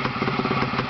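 Motorcycle engine running on a test stand with revs raised, a steady close, loud mechanical drone with rhythmic clattering pulses and no talk over it.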